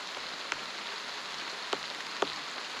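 Heavy rain falling on a small riverside forest camp, a steady hiss with a few louder drops tapping nearby, no talking.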